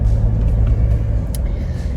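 Inside a moving rental car in New Zealand, a steady low road rumble and engine drone fills the cabin, loud and continuous, with no one talking.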